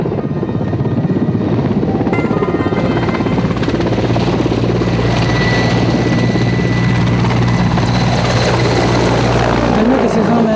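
A helicopter in the Lahaul and Spiti valleys roars loud and close, its rotor thudding in a steady rapid beat with a high engine whine throughout.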